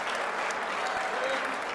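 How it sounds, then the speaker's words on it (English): Crowd cheering and applauding loudly and steadily at a table tennis team championship final, a continuous dense roar close by. "You can hear the crowd going nuts."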